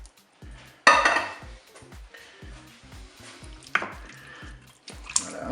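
Canned peeled tomatoes going into a Cookeo multicooker make a few wet plops and sharp metallic clanks of can and spoon against the pot, with soft stirring and dripping between them, up close.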